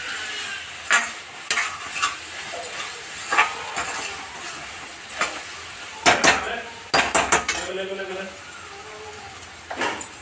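Beans curry stirred in a pan, with a spoon scraping and clinking against the metal in irregular strokes and a faint sizzle underneath, close and moderately loud, with no talking.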